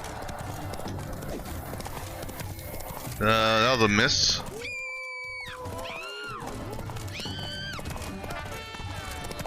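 Horse hooves clip-clopping and a sharp neigh in The Witcher 3: Wild Hunt, Blood and Wine, with the galloping steady underneath, a loud whinny rising midway, and someone talking over the game sounds.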